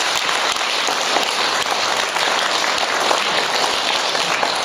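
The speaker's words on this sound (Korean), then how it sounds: "감사의 박수를 드립니다." Sustained applause of thanks fills a Korean Catholic church gathering, a steady dense patter of many hands clapping together throughout with no voices over it.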